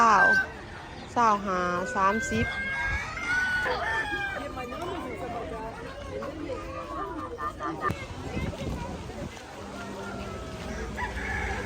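Chickens and ducks at an outdoor weekend market in Texas, with a rooster crowing in short bursts amid busy crowd chatter and people talking nearby.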